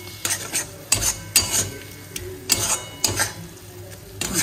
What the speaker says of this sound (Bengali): জাস্ট একটুখানি নাড়িয়ে চাড়িয়ে